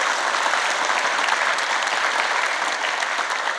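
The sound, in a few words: audience applause for the organisers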